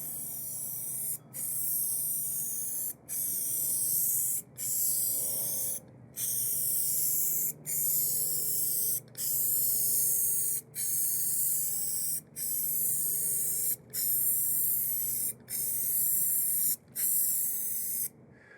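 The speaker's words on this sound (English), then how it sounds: "I'm going to spray some more." GluBoost Cold Checking Lac-R lacquer sprayed in coats from an aerosol can, heard as long steady hissing bursts of about a second each, broken by short regular pauses, about a dozen passes in a quiet room.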